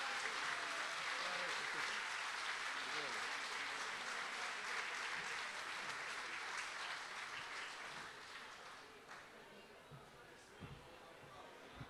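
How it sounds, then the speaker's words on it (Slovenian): Applause from an audience of pensioners at a mayor's gathering with a folk ensemble, sustained even clapping that gradually thins and fades toward the end, with scattered voices underneath. "Še en aplavz."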